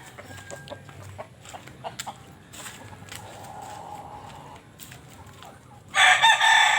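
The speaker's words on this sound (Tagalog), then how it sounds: "Ayan, mga manok." Chickens cluck and scratch nearby in short scattered bursts in a muddy coop, then a rooster crows loudly near the end.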